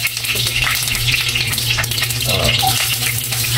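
Potatoes fry in a pan for chicken adobo, a steady close hiss and crackle of oil with faint stirring scrapes and no clear talk.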